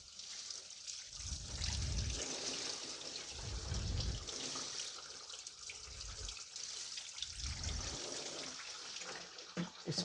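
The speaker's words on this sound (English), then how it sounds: "So just going to wash down all the spilled coolant that came out of the block." Running water rinses spilled coolant off the engine block of a 2005 Toyota Corolla 1.8, a steady close splashing and trickling stream with a few heavier low surges as the flow hits the metal, no talking.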